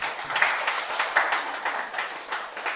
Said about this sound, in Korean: 우리 하나님께 영광의 박수 올려주십시오.